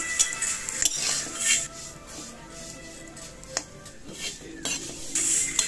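A utensil scrapes and clinks against a pan while vermicelli fries over low gas heat, soft irregular stirring with occasional sharper metallic knocks and a faint sizzle underneath.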